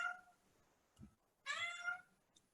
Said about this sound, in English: hearing nothing but my cat